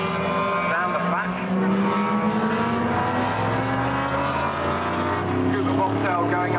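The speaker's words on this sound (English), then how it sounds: "Cougar Bobtail going under my box" Cougar Bobtail race car at the 1995 AMOC Snetterton meeting, its engine droning steadily as it passes beneath the commentary box, a continuous loud roar with shifting engine tones and other cars audible over the whole stretch.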